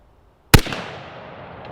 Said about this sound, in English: I'm going to take a test shot on that 50-yard steel target.